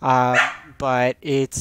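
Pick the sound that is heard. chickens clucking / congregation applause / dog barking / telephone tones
dog barking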